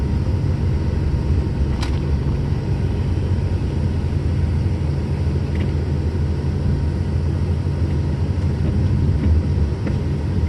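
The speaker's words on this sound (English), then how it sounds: "Trucks are running a little fast." Trucks drive past on a snowy road during a blizzard, making a constant loud, broad rumble of engines and tire noise, with faint brief squeaks mixed in and no pauses.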